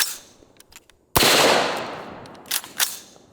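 A single sharp, loud gunshot from a gun fitted with a Kali Key device, with a brief ringing decay and a few faint clicks and clatters before and after.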